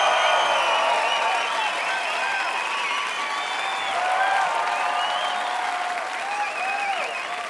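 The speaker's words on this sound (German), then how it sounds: "klatscht die Hände für unsere Seat Music Session" Concert audience at a live music session in Zurich clapping hands, sustained loud applause with cheering and whistles over the top, steady from start to finish.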